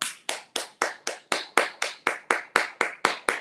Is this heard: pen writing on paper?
no